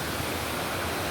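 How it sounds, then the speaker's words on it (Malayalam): A small, clear river runs in a constant murmuring wash of water, close and unbroken, with nobody speaking. "കളകളാരവം പൊഴിച്ചുകൊണ്ട് ഒഴുകുന്ന പുഴയാണിത് കേട്ടോ"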